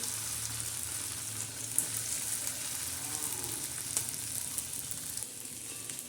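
Peanuts and chillies sizzle steadily in hot oil for sabudana khichdi, a constant crackling hiss with occasional small pops, fairly close and without speech.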